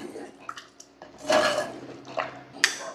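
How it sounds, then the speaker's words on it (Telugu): Prawns stirred in a pan with salt and chili powder, a spoon scraping and clinking against the metal in several short bursts, close and fairly quiet. "2 చెంచాల కారం, ఈ ఉప్పు కారం కలిసే విధంగా బాగా తిప్పుకోవాలి."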